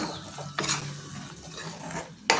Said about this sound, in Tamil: இதில் சேர்த்துட்டு நல்லா கலக்கி விடுங்க